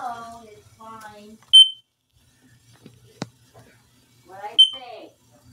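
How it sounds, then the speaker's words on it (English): A smoke alarm in a home lets out a few short, sharp high chirps between spoken phrases, with a person talking nearby and a brief click in the quiet gaps. "Why is that smoke alarm so lighting up?"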